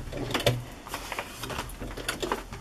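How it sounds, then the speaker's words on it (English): A sewing machine runs in short uneven bursts, its needle clattering in quick mechanical stitches with brief pauses between runs. "I'm just stitching around the sides and the bottom. I need to back that up because it'll go off the fabric."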